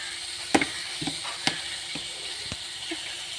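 Grated coconut being stirred into puttu upma frying in a pan, giving a soft steady sizzle broken by several sharp scraping and tapping knocks of the spoon against the pan, close and fairly quiet with no talking.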